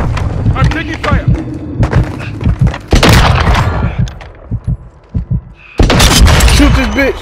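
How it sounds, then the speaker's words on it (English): Gunfire and explosions from the video game Call of Duty: Modern Warfare II crack and boom in loud bursts with brief pauses between them, while radio voices talk over the shooting. "I'm taking fire."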